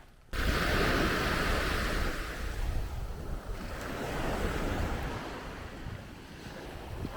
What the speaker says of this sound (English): This may be the biggest beach you'll ever find with nobody on it.